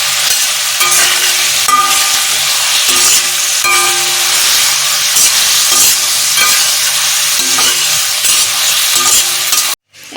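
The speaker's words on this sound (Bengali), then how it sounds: "এবার এটা ভালো করে নাড়াতে থাকি।" Chilli and chopped tomato frying in a pan as they are stirred, a steady close sizzle with repeated scraping strokes of the spoon throughout, cutting off abruptly at the very end.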